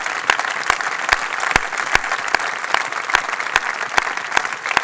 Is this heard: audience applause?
yes